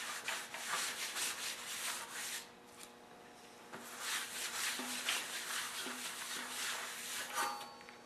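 A white rag dampened with methyl hydrate is rubbed over a dirty welding cart, giving close, repeated scrubbing strokes with short pauses and no talking.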